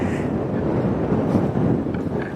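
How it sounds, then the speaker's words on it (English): Strong gusty wind buffets the microphone in a fruit tree orchard, a loud continuous low rumble and roar that holds steady throughout with no voices. "it's so windy, I can barely film every single day here"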